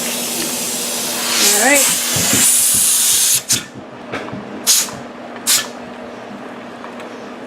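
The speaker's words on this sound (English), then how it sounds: "We wait for the steam to come out of this part." Steam hisses steadily from the vent of a pressure canner loaded with homemade tomato sauce. The hiss stays continuous for a few seconds, then short bursts follow, and a voice speaks briefly.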